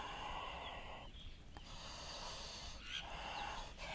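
Slow, audible breaths during a yoga pose, soft airy inhales and exhales with a brief pause between, close and quiet.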